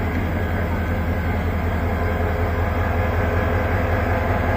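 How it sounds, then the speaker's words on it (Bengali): Tista intercity train standing at a stop with its engine idling, a loud, steady low rumble and hum that runs without a break. "Teesta train, আন্তনগর intercity"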